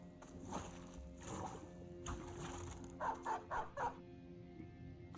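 Dog barks in the video game Battle Brothers: four short, evenly spaced barks come through clearly after a busy stretch of battle noise and clatter.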